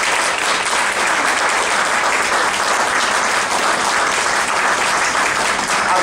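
An audience at a volunteer of the year awards ceremony applauds a winner with loud, sustained, even clapping throughout.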